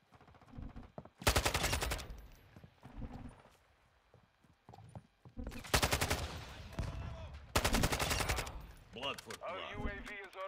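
Automatic gunfire in a first-person shooter video game, with several loud sustained bursts separated by quieter stretches, plus clattering and a short whinny-like sound near the end.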